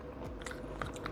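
Close chewing of a spoonful of street corn casserole, soft wet crunches and mouth sounds over about a second, with no talking.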